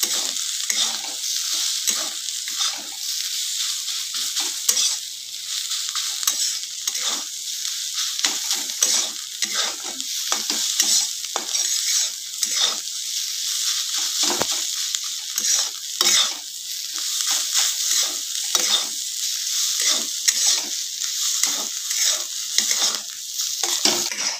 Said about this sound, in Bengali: তো এই কটা উপকরণ দিয়ে আমি একটু ভালো করে নেড়ে চেড়ে ভেজে নেবো।